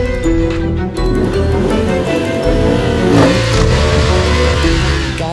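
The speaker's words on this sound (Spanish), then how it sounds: "vamos a ver si arranca la moto" A motorcycle engine starts and runs on a muddy, rain-slick road near Bogotá after the bike has fallen over. It makes a loud, steady rumble close by, with a brief rev rising around the middle.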